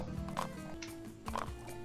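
Horse hooves clop in a video game horse race, a few muffled beats with soft thuds and faint background tones, quiet and fairly close.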